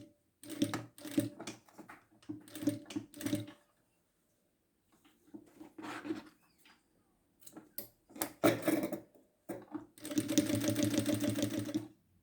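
A sewing machine stitching cotton bias tape in several short bursts of rapid mechanical clatter separated by pauses, ending in a longer steady run, close and clear with no talk.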